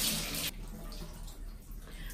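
A brief hiss of water sprayed onto a wig runs for half a second, then stops, leaving quiet room noise.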